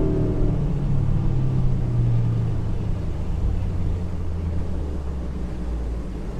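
A 2019 Bayliner 160 bowrider with a Mercury 90HP outboard runs at full speed, giving a continuous loud engine drone and hull rumble with a slight rising whine early on, steady throughout and without talk.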